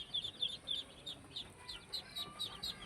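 Several chickens cluck in short, repeated bursts against a quiet background, soft and a little distant.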